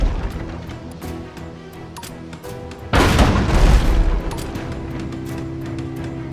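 Grape shot cannons fire from a sailing ship in the game Abandon Ship, a sudden heavy roaring blast after a stretch of low ambient rumble and scattered clicks, loud and close before settling back.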